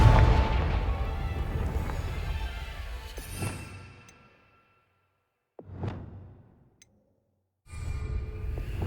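A blasting spell goes off in Hogwarts Legacy: a loud rushing boom fades into silence, then a second shorter whooshing burst and a final rumbling swell, with no voices.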